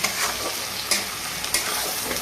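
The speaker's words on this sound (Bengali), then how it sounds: "লবণটা দিয়ে একটু সময় নিয়ে একটু পেঁয়াজটা একটু ভাজবো" Onion fries with salt in a pan, giving a steady close hiss and crackle with a few brief spatula scrapes, loud and continuous with no talking, while a fish jhal is being cooked.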